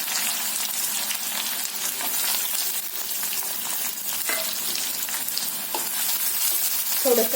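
Cumin, curry leaves and a small finely chopped onion fry in hot oil in an iron kadhai for pitla, producing a dense, even crackling sizzle throughout, close up with faint scraping near the end.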